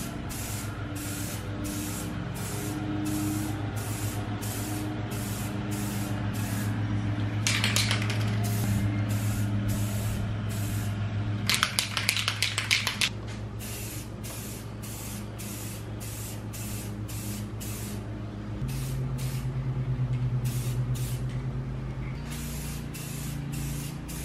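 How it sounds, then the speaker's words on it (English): Krylon Gloss Sunbeam spray paint hisses out in a long series of short, rhythmic bursts from a rattle can while a cosplay visor part is painted, loud and close, with a few sharper rattling passes and no talking. "we're gonna be using this gloss Sunbeam by Krylon"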